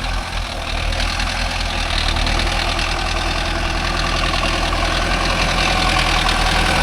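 A Mahindra Arjun Novo 605 DI tractor pulls a five-point cultivator through a field. The diesel engine drones loud and steady at close range, with a constant low rumble and no voices.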